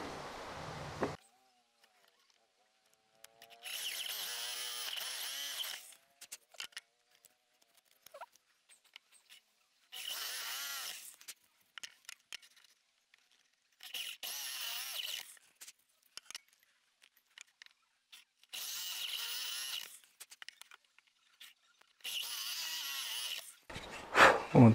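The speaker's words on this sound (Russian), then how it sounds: "Беру стойку с дрелью с ограничением глубины, настраиваю нужную глубину" A drill in a depth-limited drill stand whines in five separate bursts of a few seconds each, boring five identical holes, with quiet gaps and faint handling noises between them.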